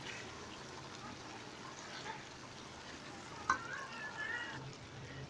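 Beef pieces fry in masala in a pan for palak gosht, giving a soft, steady sizzle throughout with a brief clink partway through and no talking.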